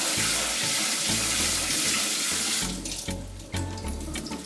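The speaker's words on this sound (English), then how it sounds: "So I will just spray some cold water." Cold tap water sprays steadily over cooked green beans in a sink, a loud continuous rush with no talking.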